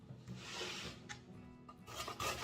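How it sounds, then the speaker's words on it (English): Carrots being shredded on a grater for pumpkin-spice carrot cake, a steady close rasping rub with short strokes and brief pauses, no talking. "Now I'm gonna move on to shredding these carrots."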